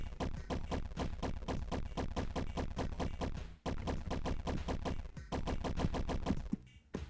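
Rapid, steady bursts of gunfire from the Space Defenders video game, a loud rattling machine-gun rhythm with two brief pauses and no talk.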